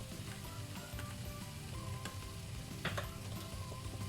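A tablespoon of oregano stir-fries in a hot pan for a spicy clam and chorizo soup, giving a steady close sizzle with scattered crackles and scraping stirs, and no talking.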